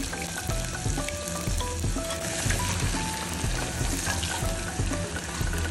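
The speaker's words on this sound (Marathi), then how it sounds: "तेल गरम झाल्यानंतर त्यामध्ये 1 मोठा चिरलेला कांदा ॲड करायचा।" A large chopped onion fries in hot oil for a Konkan-style prawn masala, a loud, dense, unbroken crackling sizzle heard up close with no talking.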